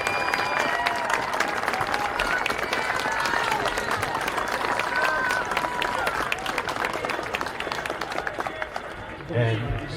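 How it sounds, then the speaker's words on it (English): Crowd applause at a high school state third-place game trophy presentation for the Park Hill South Panthers, steady clapping and cheering filling the space for the full stretch with voices mixed in. "let's give a big round of applause to the Park Hills South Panthers"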